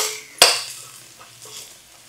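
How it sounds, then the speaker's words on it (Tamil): Onions sauté in a pan for a crab meal, with one sharp metallic stir or scrape of a utensil followed by a soft, faint sizzle that fades under quiet kitchen sounds. "வெங்காயம் தான் நல்லா வதங்கணுமா?"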